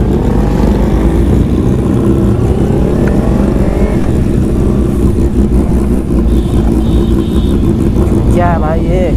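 Kawasaki ZX10R motorcycle with an aftermarket exhaust, ridden on a night ride in Siliguri, its loud engine and exhaust drone holding steady with a rising rev near the end.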